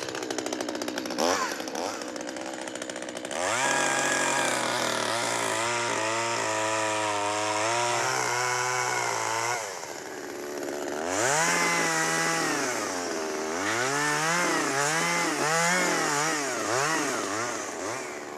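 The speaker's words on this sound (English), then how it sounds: "we're going to do it with a chainsaw." A chainsaw cuts into rotten wood on a farm while clearing blackberries, its engine running loud and close for the whole stretch, pitch dipping under load and rising again in repeated revving surges.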